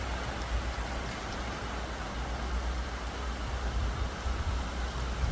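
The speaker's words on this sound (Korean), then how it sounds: "이렇게 비가 내리는데도" Rain falls steadily on saturated, waterlogged garden ground among flowers and roses, a constant even hiss of drops with a low rumble beneath and no other sounds.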